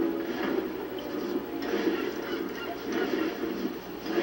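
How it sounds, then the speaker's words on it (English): A duck in the Lego Harry Potter Years 1-4 video game gives a run of repeated honking quacks at moderate loudness, with faint background sound and no clear talking. "There's a ducky."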